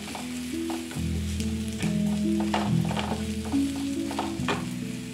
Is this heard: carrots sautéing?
yes